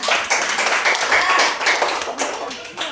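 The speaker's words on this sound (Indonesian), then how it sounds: "tepuk tangan untuk Gibran." Children in a classroom clapping their hands together for a classmate: steady, close group clapping with overlapping hand strikes, fairly loud throughout the short burst.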